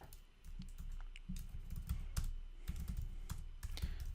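Fast, steady typing on a computer keyboard while code is written, with dense close key clicks and a few sharper taps, quiet and with no talk.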